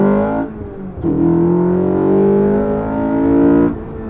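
An Ariel Atom pulls hard in third gear, a loud close engine note climbing steadily in pitch with a brief dip near the start and a sudden cut at the end.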